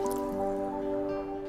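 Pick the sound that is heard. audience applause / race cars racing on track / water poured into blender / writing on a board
water poured into blender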